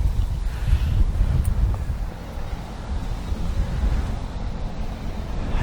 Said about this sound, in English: Wind is so strong.